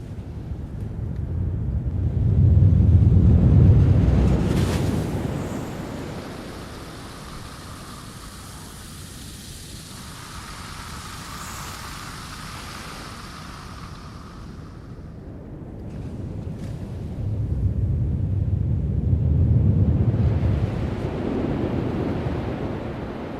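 A foley water effect swells from gentle lapping into a deep surging rumble, rising loudly, easing into a quieter hissing wash, then building again, with no voices.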